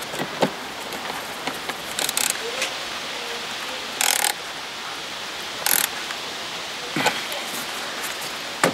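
A ratchet tightens a bolt while a heater blower is being replaced on a BMW E36, heard as short bursts of rapid, close clicking spaced a second or more apart against a quiet background.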